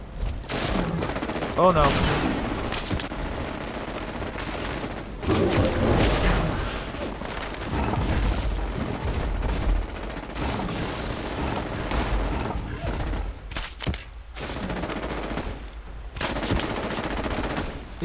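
Heavy gunfire in Fallout 76 against a raider and a ghoul, rapid bursts and booming blasts repeating loud and close throughout, with brief pauses and a short spoken exclamation.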